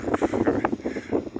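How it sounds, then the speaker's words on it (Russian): Gusting wind buffeting the microphone outdoors by a small river in a late-March snowstorm, rough low rumbling bursts coming and going in uneven pulses. "Ветер поднялся. Гул."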